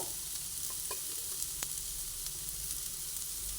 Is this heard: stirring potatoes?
yes